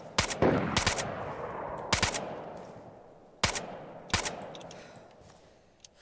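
Distant gunshots ring out in the survival game DayZ, somewhere around a castle: sharp single cracks and short bursts spaced over several seconds, each leaving a fading reverberant tail, with no talking.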